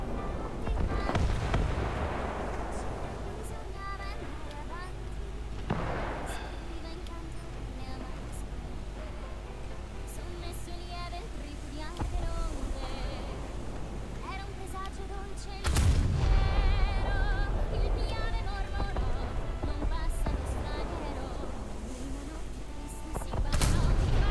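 Repeated gunfire from a vehicle cannon in War Thunder, in a winter operation, heavy booming shots recurring over a continuous low rumble, with loud blasts near the middle and end.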